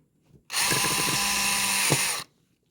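A power drill drives a screw while a Yaheetech writing computer desk is assembled: one loud, steady whirring burst of under two seconds with faint clicks at the start, nearby, with quiet before and after.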